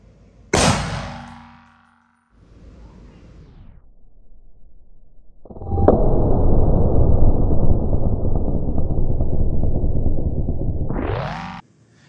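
A Century Arms C308 rifle fires 7.62 NATO M80 ball at an RTS Tactical Level III+ armor plate: one sharp, loud crack with a ringing clang, a quiet gap, then a second blast that rumbles on for several seconds before cutting off.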